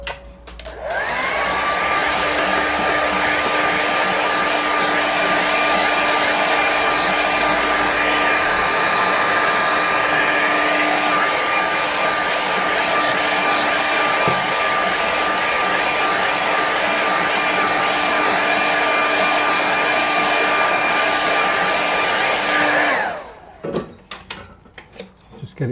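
A hair dryer blows steadily on a watercolour seascape painting, a loud constant whirring whine running for over twenty seconds before cutting off abruptly, followed by brief handling noises.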